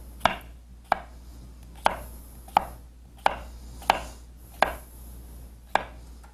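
A knife chops cucumbers into chunks of about 1.5 to 2 inches on a cutting board, striking in nine sharp, evenly spaced chops up close.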